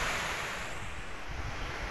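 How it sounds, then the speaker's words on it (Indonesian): Large ocean waves breaking at Watu Ulo beach on a hot, sunny day, a loud close wash of surf with wind buffeting the microphone, steady over a brief moment. "Ombaknya besar"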